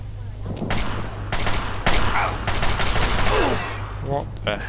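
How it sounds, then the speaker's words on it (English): Automatic turret gunfire in Fallout 3, loud and close: repeated bursts of sharp shots and bangs crowd the whole stretch, broken by brief gaps, with a steady low hum underneath. "I think that was a turret, weren't it?"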